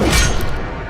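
Incendio fire spell cast in the video game Hogwarts Legacy: a loud, full burst of fiery whoosh that hits at once and fades over a second.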